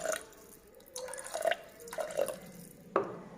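About one and a half cups of water go into a pot of basmati rice for Kerala meat rice. Several close splashes and drips come in uneven bursts, with no talk.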